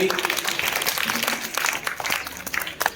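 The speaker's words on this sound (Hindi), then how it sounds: "जोरदार ताली हो जाए इनके लिए।" An audience at a quiz competition applauds a team after a rapid-fire round, giving a brief burst of dense, steady clapping that fills the room.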